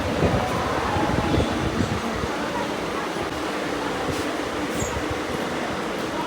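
A subway train rumbles through the station, a steady, loud roar of wheels and machinery filling the space without letup.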